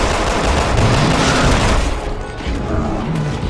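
Rapid gunfire crackles in Resident Evil 6, a loud dense burst of shots with booming impacts layered over game noise, continuous across the moment.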